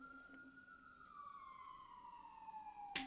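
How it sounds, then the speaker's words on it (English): An emergency siren wails outside, a single long tone sliding slowly downward as it passes, faint and distant, ending with a short sharp knock. "That was a loud siren."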